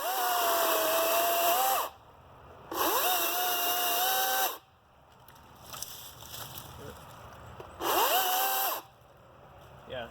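A small DeWalt battery chainsaw runs in three bursts of a few seconds each, a high steady whine that rises and settles as it spins up, with quieter pauses between the runs where faint handling noise is heard.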